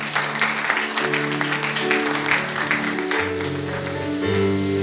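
A church congregation applauds and cheers for Jesus during a sermon, a steady, dense wash of clapping and voices that holds for several seconds and swells slightly near the end.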